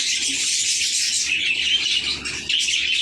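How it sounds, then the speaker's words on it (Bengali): Cockatiels, a male and a female, give a steady run of high chirps and whistles close by, with soft wing flutters underneath and no talking. "দেখুন এদিকে আছে ককাটেল, মেল ফিমেল দুটোই আছে।"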